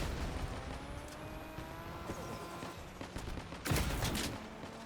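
Gunfire from armed vehicles in the video game Crossout: faint, distant bursts of shots under low engine rumble, ending in one louder blast near the end.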